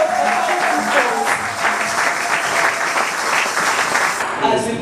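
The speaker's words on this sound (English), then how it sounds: "est-ce qu'on peut applaudir le Seigneur?" A church congregation applauds during a pastor's installation service, a steady wash of clapping mixed with cheering voices and a sustained musical tone underneath, continuing without pause before thinning at the very end.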